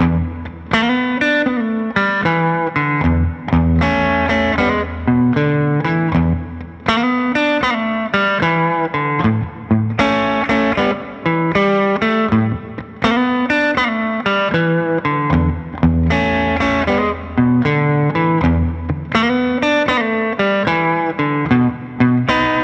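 A distorted electric guitar with chorus and effects plays a blues rhythm in E, with repeating lick phrases in the even bars. The playing is loud, continuous and close, with no talking over it.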